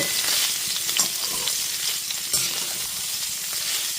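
Boiled soybeans frying in oil with turmeric over a low-to-medium gas flame: a loud, continuous crackling sizzle with occasional stirring scrapes, close and uninterrupted, no speech.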